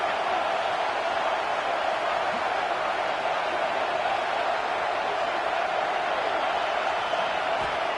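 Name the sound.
stadium crowd cheering at a football game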